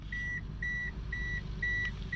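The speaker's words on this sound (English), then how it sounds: "I don't want to hear beeping anymore" A 2005 Pontiac Vibe GT warning chime beeps four times in an even rhythm, each tone short and clear over a low engine hum.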